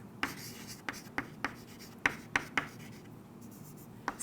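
Pen or chalk scratches out a handwritten equation, with short strokes and taps arriving in an irregular rhythm, close and fairly quiet, with no talking.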